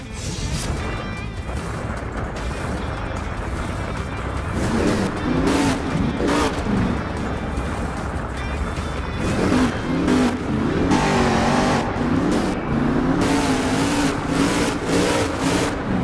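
A monster truck engine in the video game Monster Jam Steel Titans 2 revs loudly and continuously, rising and falling in pitch with bursts of acceleration and clattering impacts, without speech.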